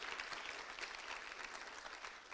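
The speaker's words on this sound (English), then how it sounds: "Can we give them all a round of applause" An audience at a university panel discussion claps in a steady, dense burst of applause that holds at an even level for the whole stretch, with no voices rising above it.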